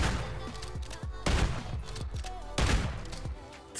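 Shotgun blasts in MW3 Warzone, two heavy booming shots about a second apart over a dense bed of game noise, loud and close.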